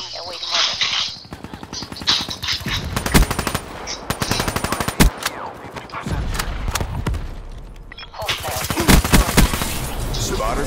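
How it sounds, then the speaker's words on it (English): An automated sentry turret in Black Ops 3 fires rapid bursts of gunfire, mixed with sharp single shots and other battlefield noise, while a player talks over much of the action. "They can't get to the Guardian because the Sentry will shoot them."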